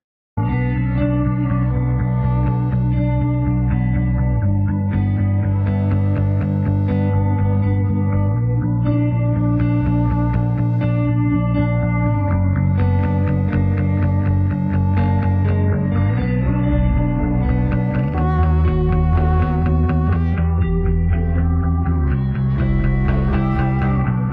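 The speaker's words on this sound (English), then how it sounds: "The music rebalance in RX-8 does it like this." Instrumental music plays steadily with a bass line and chords, the lead vocal largely stripped out by iZotope RX-8's Music Rebalance, leaving faint reverb traces behind.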